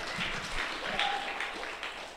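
An audience at the Kenya Film Summit 2021 awards event claps for a presenter taking her seat, a continuous mid-level burst of applause with a brief faint tone and some crowd murmur mixed in.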